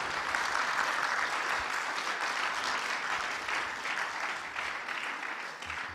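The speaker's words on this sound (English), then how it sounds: "a round of applause to Maharaj for his time today." An audience at a discourse event applauds steadily, a full, even wash of clapping that holds throughout and softens slightly toward the end.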